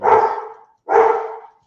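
A dog reacting to someone at the door of a home, giving two loud, close barks about a second apart, each with a brief tail; a voice speaks briefly.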